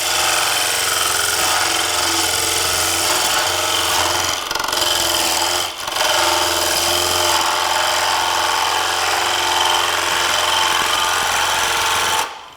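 Wood lathe cutting a Baltic birch plywood chuck, a steady harsh scraping and rasping from the tool against the spinning workpiece with a low motor hum beneath, briefly interrupted twice and stopping at the end.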